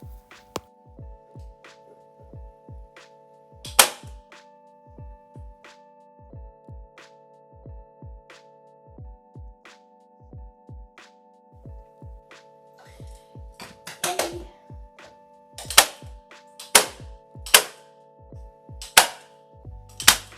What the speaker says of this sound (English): First time using a nail gun, I'm not gonna lie, I was nervous.